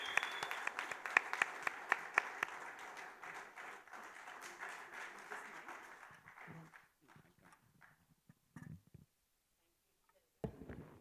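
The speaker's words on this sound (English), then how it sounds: "let's welcome him with a round of applause and cheers" Audience at a Rotary Club of Bombay Kandivli gathering applauding to welcome a speaker, a dense burst of clapping with some sharper near claps that thins out and fades to scattered claps and silence.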